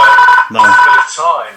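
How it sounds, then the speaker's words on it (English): A telephone rings with steady repeated electronic trilling, fairly loud and close, under ongoing conversational speech, during a casual discussion recording. "That's my phone going."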